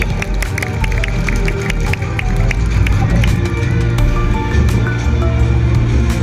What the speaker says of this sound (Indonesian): Boleh dong kasih semangat tepuk tangannya lagi.